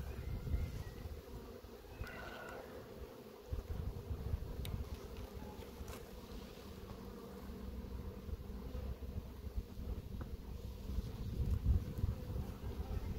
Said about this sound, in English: A lot of bees up here.